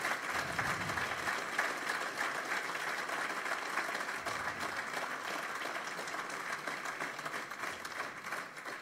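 Sustained audience applause at a marathon expert talk, steady dense clapping from a crowd throughout, fairly faint and distant, with no voices over it.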